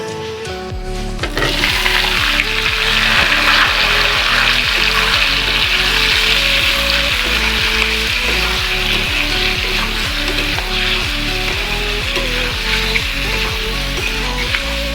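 Tomatoes and mango fry in a pan for a pickle, giving a loud, steady sizzle that runs almost the whole time, with regular stirring clacks and scrapes on top. No one speaks.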